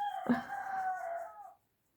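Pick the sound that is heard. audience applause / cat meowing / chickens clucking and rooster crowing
chickens clucking and rooster crowing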